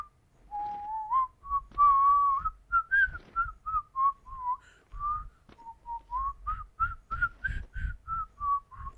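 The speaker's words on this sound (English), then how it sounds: "I am ad-libbing a whistling song" A person whistles an improvised, wandering tune in short clear phrases with brief gaps between them, close and steady over faint low rumbling for several seconds.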